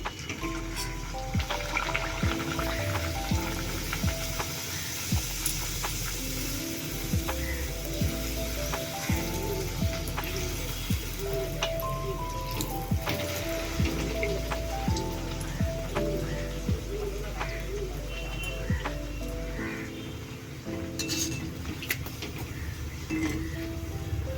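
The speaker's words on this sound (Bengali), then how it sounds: "এবার একে একে লুচি কচুরিগুলো ভেজে নেবো" Pea-filled kachori fry in hot oil in a kadai, a steady close sizzle with constant fine crackling and popping that runs on unbroken throughout.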